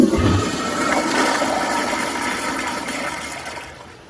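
A Kohler Kingston wall-mount toilet flushes in a loud rushing gush of water that slowly fades over several seconds, heard close up with no voices.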